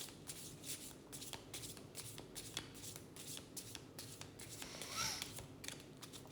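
Tarot cards are shuffled by hand in a soft, steady riffling and sliding, quiet and close, continuing without pause and with no speech over it.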